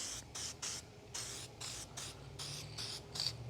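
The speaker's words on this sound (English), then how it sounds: "To copper spray or not to copper spray?" Copper spray from an aerosol can hisses in repeated short bursts onto a 14-liter Detroit diesel engine, about seven quick close sprays with brief pauses between them and no talking.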